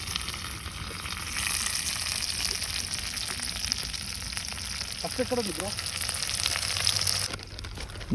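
Steady sizzling of onions frying in hot oil over a wood fire outdoors, continuous and fairly close, with a brief clatter partway through and faint outdoor background.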